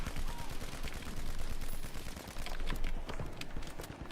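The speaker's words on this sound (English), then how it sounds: "I missed every shot in that magazine." Rapid gunfire from the video game 007 First Light, heard as a dense stream of shots that fires continuously at fairly low level.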